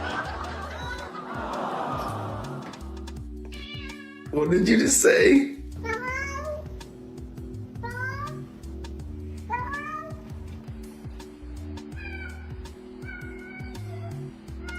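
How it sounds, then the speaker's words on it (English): House cats meow repeatedly in short, rising calls spread through the scene, with people talking and a burst of laughter partway through. "These are talking cats."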